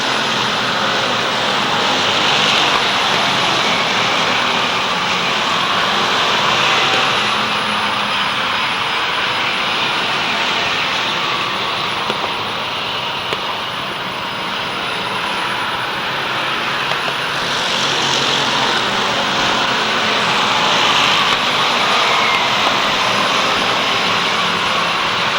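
Strictly stock cars roar around the Waterford Speedbowl oval in a 1991 feature race, a dense, continuous engine drone with swells and fades as the field passes, heard from trackside at a distance.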